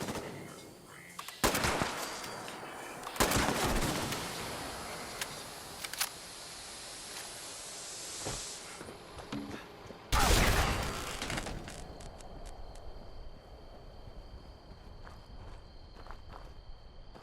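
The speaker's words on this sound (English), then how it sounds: "a sentry bot that I blast a few times with my rifle" Rifle shots fired at a sentry bot in the video game Fallout 76, a few sharp bursts and single cracks over quiet footsteps and ambient game noise.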